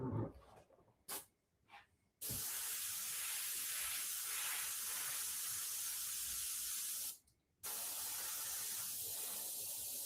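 An airbrush sprays paint onto zombie artwork at close range, giving a steady loud hiss in long bursts, with a few short bursts first and one brief pause midway.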